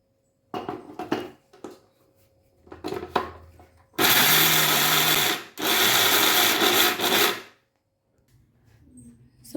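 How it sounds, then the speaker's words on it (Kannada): A mixer grinder pulses peanut chutney powder to a coarse texture in two loud whirring bursts of about a second and a half each, preceded by light handling knocks and clatter. "ಫೈನಾಗಿ ರುಬ್ಬೇಡಿ ಸ್ನೇಹಿತರೆ ತರ್ತರಿಯಾಗಿ ರುಬ್ಕೊಳ್ಳಿ"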